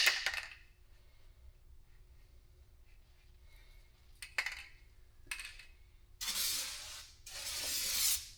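A nearly empty Rustoleum Turbo primer spray can is used on a 1977 Trans Am budget build. After quiet stretches with a few clicks and rattles, it gives two loud, sustained hissing bursts of about a second each, close by and without talk.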